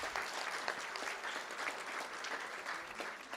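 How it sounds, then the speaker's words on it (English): Steady applause from an audience at a school district board meeting, a dense patter of clapping sustained at moderate level for a few seconds with no voices over it. "Let's give him a round of applause."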